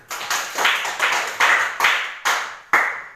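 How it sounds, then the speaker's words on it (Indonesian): A classroom of students claps hands in about seven loud, close, evenly spaced rhythmic bursts, each bursting sharply and then trailing off, with no talking over it. "Tepuk tangan."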